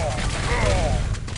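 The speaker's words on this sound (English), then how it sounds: "Oh, Fortune trying to hit that rail shot." Gunfire in a Quake Live team deathmatch match, with a railgun shot amid dense, continuous in-game combat noise, all under an excited commentator's voice.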